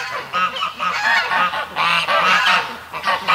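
Goose in a pen beside a thawing lake honking excitedly, a rapid run of loud, close, nasal honks repeating without pause for several seconds.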